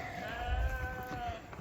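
A sheep on a 143-acre farm lets out a drawn-out wavering bleat, moderately close, over low background rumble and wind.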